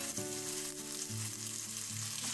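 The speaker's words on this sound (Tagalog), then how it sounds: "Ipiprito lang muna natin sila ka-friendship." Chicken pieces fry in cooking oil in a pan, giving a continuous, close hiss and sizzle over a low, steady hum.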